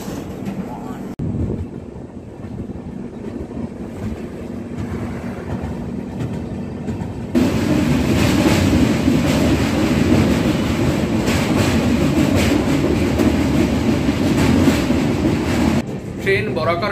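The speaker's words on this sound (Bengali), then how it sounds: "ট্রেন বরাকর নদী ক্রস করে গেল" A passenger train crossing the Barakar river bridge, a loud continuous rumble of wheels and carriages that swells sharply partway through as it rolls onto the span, heard close from inside.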